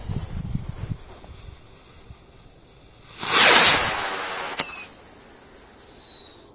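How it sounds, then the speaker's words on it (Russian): A small firework rocket set off at night shoots up with a rising hissing whoosh and a high whistle, followed by a short crackle and a thin lingering whistle fading in the distance. "Класс, со свистулькой."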